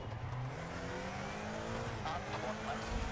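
Rally car engine on a stage in EA WRC, a steady droning hum with faint shifting pitch lines and light tyre noise, held at even loudness throughout with no voices in this short stretch.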